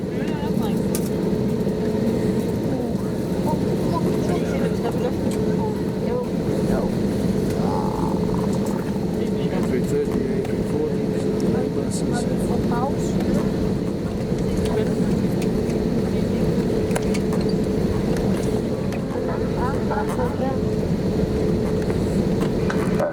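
Novair airliner taxiing before a flight from Copenhagen to Preveza, heard from inside the cabin as a steady low engine drone and rumble that holds for the whole stretch, with faint talk over it.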